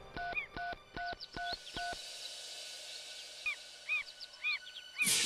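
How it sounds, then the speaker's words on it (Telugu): A telephone number is dialed, with a quick series of evenly spaced keypad tones, then a quieter stretch with faint bird-like chirps and a burst of noise at the end. "మళ్ళీ ఓసారి ఆ నంబర్కి ట్రై చేద్దాం."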